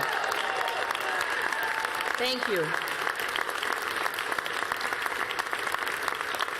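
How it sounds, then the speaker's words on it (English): Campaign supporters applaud at a Massachusetts Senate special election night rally, a dense, steady roar of clapping filling the whole stretch, with a brief spoken thank-you rising over it. "let's give yourselves a huge round of applause for what you've done"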